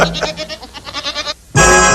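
Cartoon goats bleat in a quick series of wavering, nasal calls, a handful of loud bleats one after another, followed by a brief pause and then a bright burst of music.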